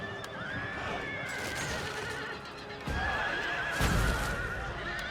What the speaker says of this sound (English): At least horses running through.